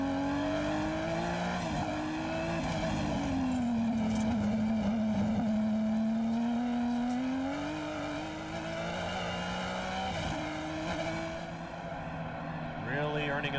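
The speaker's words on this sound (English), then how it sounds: "Just listen to the sound of this car as he works his way through these sections." An IMSA GTP prototype race car at Portland in 1990, heard onboard, its engine rising and falling in pitch through the corners, loud and continuous beneath a commentator's talk.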